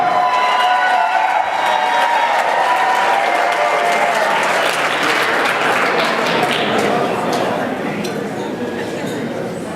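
Loud applause from a crowd at a wedding reception fills the room, steady throughout, with some cheering and glasses clinking beneath it.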